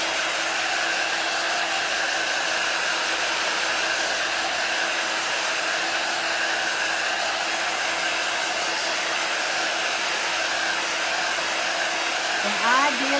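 A hair dryer runs steadily close by, drying hot glue on a fall craft project, a loud, even whirring roar that holds without a break for the whole stretch.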